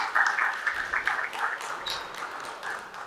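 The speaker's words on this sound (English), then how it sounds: "Please, a huge round of applause for ourselves." Conference audience at a PMI Sub-Saharan project management event clapping for themselves, a moderate, uneven spatter of hands with light murmuring and a brief bright tone partway through.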